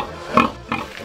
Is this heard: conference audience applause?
no